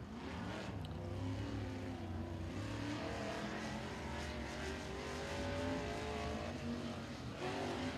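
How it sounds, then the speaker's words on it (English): Race cars lap Thunderhill Raceway during Southern All Stars qualifying, their engines droning steadily and overlapping throughout at a moderate distance, with a rising and falling roar but no speech. "Next machine out in the number 11 machine is gonna be James Neal"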